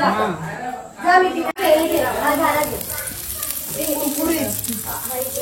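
Karela (bitter gourd) frying in very hot oil for a light vegetarian dish, a steady sizzle running under continuous close talk from a speaker.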